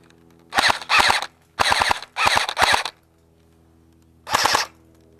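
Airsoft guns, a SIG and a US M6, fire in rapid bursts: five quick strings of sharp snapping shots close by, a pause, then one more burst, with no talking.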